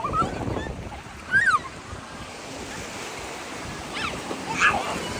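Ocean waves wash in at Paradise Beach in Pondicherry on a chilly day, a steady surf hiss under gusting wind, with a few brief bird-like calls rising above it.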